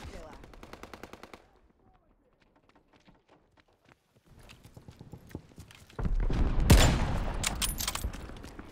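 Rapid bursts of automatic gunfire with sharp shots, a quiet pause, then a loud explosive blast and heavy sustained firing, combat sounds from Call of Duty: Vanguard.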